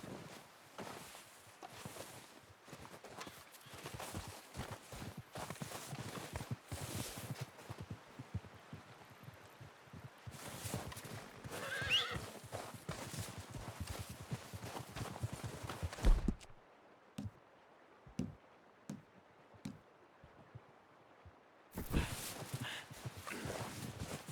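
Hooves of a horse in the video game Red Dead Redemption 2 clip-clop at a steady walking pace, with a short break partway through, over a quiet background.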